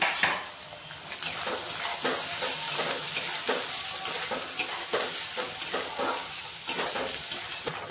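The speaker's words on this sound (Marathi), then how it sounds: "आता कांदा लालसर परतून घेऊ।" Onions frying in a pan until reddish for red chicken, with a constant close sizzle and repeated clinks and scrapes of a spoon stirring against the metal every second or so.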